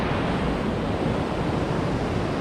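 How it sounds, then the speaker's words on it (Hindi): Ocean waves roll onto the white sand of Devgad beach in Sindhudurg, a steady, loud wash of surf with wind noise across the microphone and no pauses. "मेरे पीछे आपको दिख रहा होगा देवगढ़ का बीच, the famous beach of Deogarh."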